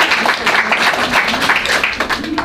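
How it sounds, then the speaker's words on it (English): An audience claps after a children's historical monodrama, a dense, steady patter of many hands filling the space at close range for a couple of seconds. "Round of applause."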